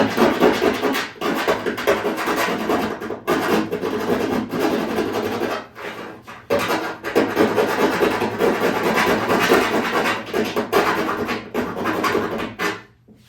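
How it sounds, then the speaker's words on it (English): A hand file scrapes rapidly along the thin edges of a light-up car emblem in repeated rasping strokes, close and loud, with brief pauses between bursts and no talking. "Definitely leave those sweet filing noises in there."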